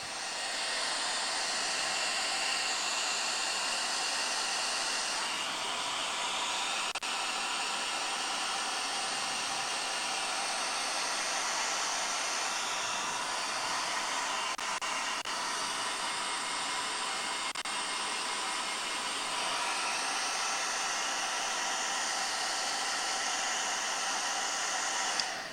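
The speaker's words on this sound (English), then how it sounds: "It is drying there. Apologies for the hair dryers." Hair dryers blow a constant, loud whooshing roar to dry paint on a model during a heavy chipping job with AK Interactive products, unbroken for the full length.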